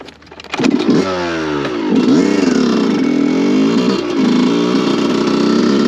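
A Yamaha YZ 125 two-stroke motocross bike blipped to mid revs, loud and close, the engine note rising and falling in several sharp throttle bursts before holding a buzzing idle-to-mid rev drone.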